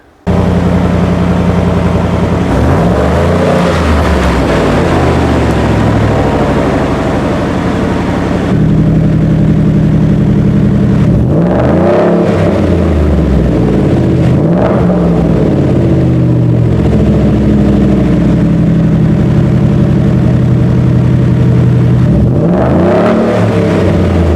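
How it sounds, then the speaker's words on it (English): Roush-tuned 2020 Ford F-150 off-road pickup with an adjustable exhaust, running steadily as a loud, deep rumble, with repeated swells where the note rises and falls through different tone settings; no talking. "you can adjust the noise and the sound of the tone of your Roush exhaust"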